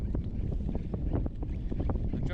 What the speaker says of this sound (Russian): Ветер, я говорю, ничего не слышно.